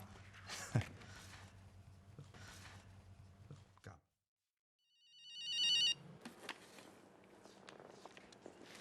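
A telephone rings in an indoor scene of a Hindi TV drama: a bright electronic ringtone bursts in clearly after a moment of silence, following quiet room ambience and soft movement.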